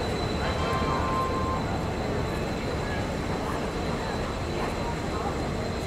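Vivek Express train running on the Radhikapur–Kolkata route behind its locomotive, a steady loud rumble of wheels and carriage noise that holds evenly throughout with a faint tonal whine above it.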